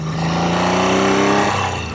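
A Triumph Trident T160 motorcycle engine runs loud and close, holding a steady rumbling note that swells slightly, then eases off near the end, with no voices over it.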